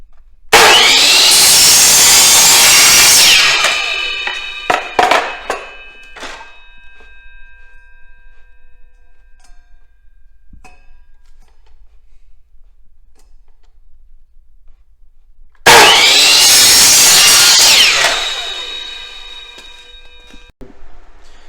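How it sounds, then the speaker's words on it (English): A miter saw rips through a wooden turkey plaque in two loud, close bursts, each a few seconds long, separated by a long quiet stretch with small clicks and taps. "now we're at the miter saw. We're going to cut this plaque out"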